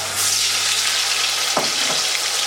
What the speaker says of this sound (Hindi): तेल गरम हो चुका, इसमें आप डालेंगे ज़ीरा और ग्राइंड की हुई प्याज